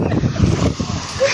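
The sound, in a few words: strong wind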